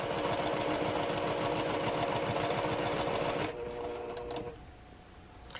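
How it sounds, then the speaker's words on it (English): A sewing machine stitches along a marked line for quilt half-square triangles, a rapid even rhythmic needle hammering that stops abruptly partway, leaving a faint hum and a few small clicks. "Just go slowly along that line."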